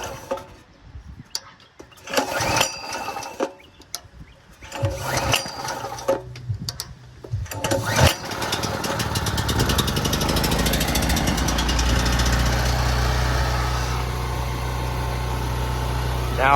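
Gasoline engine on an off-grid 12-volt shop setup: choke-assisted pulls and sputters for about eight seconds, then it catches and settles into a loud, steady close running drone, with someone talking early on.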